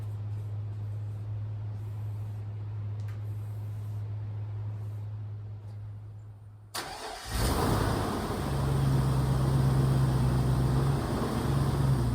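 A 1956 pickup truck engine cranks and catches after a quiet stretch with a steady low hum, then settles into a loud, rough idle that holds to the end of the clip.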